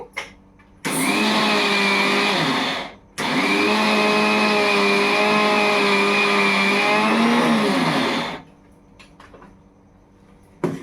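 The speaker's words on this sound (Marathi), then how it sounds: "जरासं मी फिरवून घेते मिक्सरला" A kitchen mixer grinder runs with dry rice and no added water in two loud bursts, a high whining motor roar that pauses briefly, then runs again and winds down before a few clinks.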